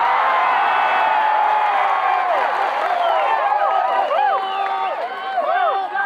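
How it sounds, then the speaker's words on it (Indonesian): An audience at a religious gathering in a park in Taichung, Taiwan claps and cheers loudly, with a dense wash of applause and rising whoops and shouts sustained throughout. "Yang terakhir harus kenceng tepuk tangannya"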